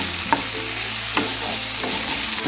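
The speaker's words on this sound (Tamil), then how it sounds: "தக்காளி லைட்டாக வதங்கினா போதும்." Tomatoes sauté in a pan for egg kurma, an even close sizzle punctuated by about four quick scraping stirs at a regular pace.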